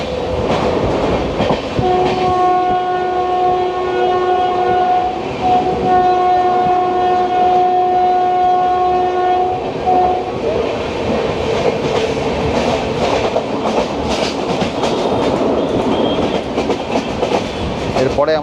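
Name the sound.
Darjeeling Mail passenger train running, horn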